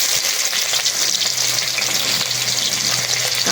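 Onion frying with dried chillies in a pan gives a loud, dense, unbroken sizzle that stays even for the whole stretch, with no voices over it.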